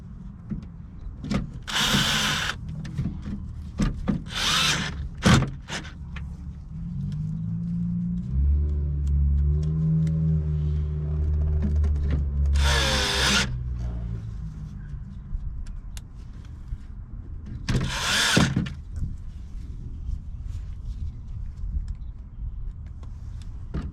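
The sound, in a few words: power drill driving in speaker screws in Ford Expedition door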